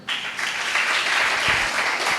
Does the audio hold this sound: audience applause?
yes